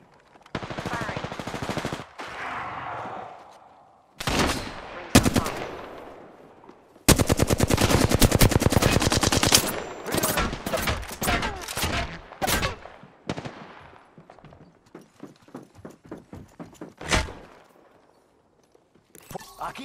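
Automatic weapons fire in Apex Legends, with rapid close bursts in several volleys, some long and sustained, others short and clipped, ending in scattered single shots.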